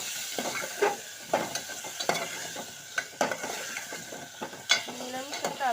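Potatoes sizzle in a pan with capsicum and tomato while a spoon scrapes and clanks against the metal in uneven strokes, the frying hiss steady and close underneath.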